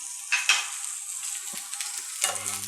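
Potatoes being stirred with red chilli powder and chaat masala for aloo chaat, giving a few soft scraping and tossing sounds in a pan with a low background hiss, close and fairly quiet, no voices.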